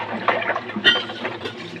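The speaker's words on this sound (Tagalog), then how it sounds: "Tignan natin yung gripo." Water runs steadily from a household faucet in a kitchen, a continuous close splashing stream that holds fairly loud through the moment.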